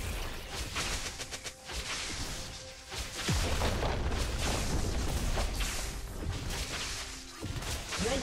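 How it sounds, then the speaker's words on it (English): A League of Legends turret collapsing as it is destroyed in a mid-lane match, a heavy booming crash over dense game sound effects and music, followed by continued battle noise. "Red team's turret has been destroyed."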